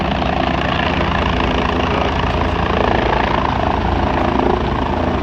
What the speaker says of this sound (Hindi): एक बार में 4 हेलीकॉप्टर यहाँ उतर सकते हैं।